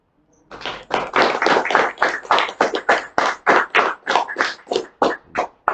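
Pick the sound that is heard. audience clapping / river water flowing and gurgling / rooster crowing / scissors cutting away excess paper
audience clapping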